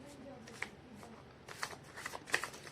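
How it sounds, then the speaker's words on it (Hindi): Tarot cards being shuffled, giving a few soft riffling bursts that build toward the end, fairly quiet in a room with low background noise. "कर लेती हूँ कार्ड की शफलिंग"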